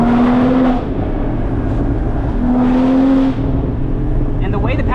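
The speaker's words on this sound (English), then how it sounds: "just letting off throttle with all these burbles" Porsche Cayman GT4 engine and exhaust while lifting off the throttle, a loud close drone that dips and swells, with crackling burbles near the end.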